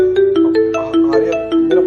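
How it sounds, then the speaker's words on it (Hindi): A phone ringtone plays a bright, repeating melodic pattern of short tones, loud and close, with no voices over it. "मेरा फोन आ रहा है, एक बार बेबी को पकड़ोगी?"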